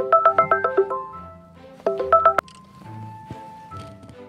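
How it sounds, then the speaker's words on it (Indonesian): A telephone being dialed sounds as two quick runs of bright keypad tones separated by a pause, followed by quieter, sparser electronic tones. "gue telepon dulu deh"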